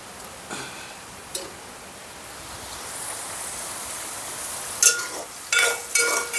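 Oil is added to a pan and begins to fry with a soft, steady hiss, and a few brief clatters of a utensil come toward the end.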